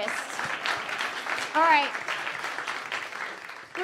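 A comedy club audience applauds during a stand-up set, with moderate clapping and crowd noise under which a voice briefly speaks.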